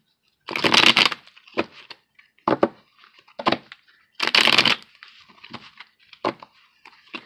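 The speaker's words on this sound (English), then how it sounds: "And I'm going to shuffle and get 3 cards now for the union." Tarot cards being shuffled by hand: a series of crisp riffling bursts and soft slaps, some long and some short, irregularly spaced with quiet gaps between, close and clear with no talking.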